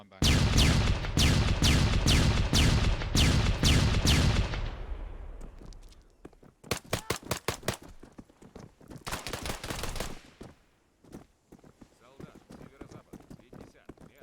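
A nine-bang flashbang stun grenade goes off during breach-and-clear troop training, firing a rapid string of sharp, loud bangs in bursts, with shouted commands and other voices between and after the blasts.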